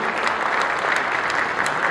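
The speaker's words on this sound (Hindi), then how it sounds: "चलिए जोरदार तालियां हो जाए, because this is a great launch for tonight." Audience applause at a lighting product launch event, steady and dense clapping from a large crowd throughout, fairly close and loud with no talk over it.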